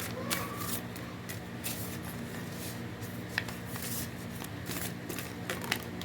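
Tarot cards being shuffled and drawn, a soft continuous papery riffling with a few faint sharp flicks, quiet and close over a steady low hum.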